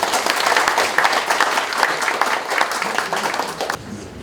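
An audience in a hall claps to welcome a foundation chairman at an anniversary ceremony of a Kim Dae-jung Foundation branch, dense sustained applause at fairly close range that drops off abruptly near the end.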